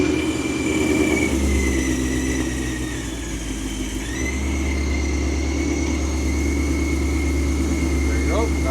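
A Ford Mustang with a blown-up engine runs steadily in a garage as it is driven forward into position over a jack, a low continuous engine drone held at a near-constant level throughout.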